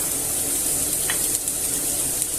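Garlic, onion and carrot frying in olive oil in a very hot pan, a loud, even, close sizzle that holds steady with faint stirring scrapes and no talking.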